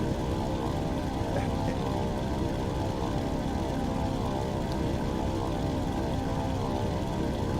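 Bomber aircraft engines in the WWII Online flight game, a constant droning propeller hum with layered harmonic tones, steady and unbroken throughout, without talk.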